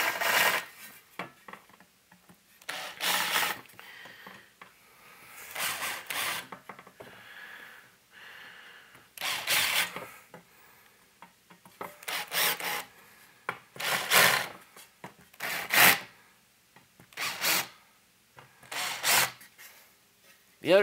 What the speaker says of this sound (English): don't push down very hard with this larger bit. You do not want it to like dig in. You just want to barely chamfer the edge of it.